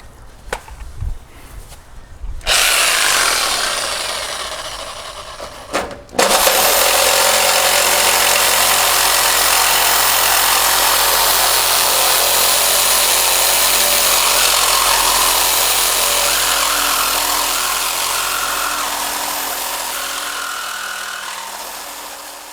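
Power tool cutting the frame of a 1973-87 Chevy squarebody truck during a longbed-to-shortbed conversion, starting with brief bursts and then a loud, continuous, close grinding whine that holds steady before tapering slightly, with no talk.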